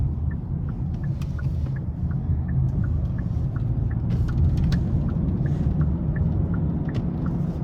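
Cabin of a 2023 Hyundai Sonata SE 2.5 on the road, a steady low rumble of tyre and road noise with faint ticking clicks repeating throughout, no talking.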